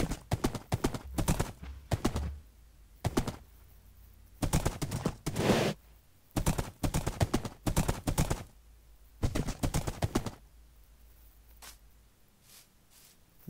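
Horse hooves from a ridden horse in the video game Minecraft, clip-clopping in irregular bursts of quick steps separated by short pauses, fairly close and clear with no talking over them.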